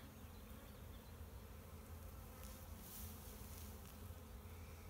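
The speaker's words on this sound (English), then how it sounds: "There's an Asian hornet, see, look, hovering around that hive." An Asian hornet hovers around a beehive outdoors in a garden, giving a steady, continuous insect buzz that holds at an even loudness throughout with no talking.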